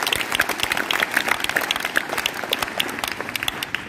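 An audience at a motivational speech event on the Mission Shakti program breaks into hearty applause, many hands clapping in a lively, continuous patter that fills the hall.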